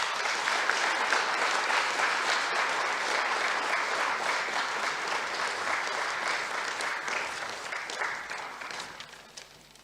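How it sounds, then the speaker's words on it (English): Applause from an audience at the closing ceremony of a health summit, a dense, steady wash of clapping that holds loud for most of the stretch before easing off toward the end. "So another big round of applause for our guest of honor, Dr. Charles Mahera."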